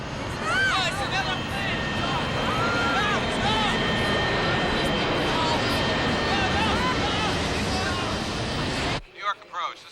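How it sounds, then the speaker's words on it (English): An airplane flies past with a steady, broad engine roar and a thin whine on top. Voices talk over the noise, and the sound cuts off abruptly near the end. "It's a plane."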